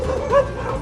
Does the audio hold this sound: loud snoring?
no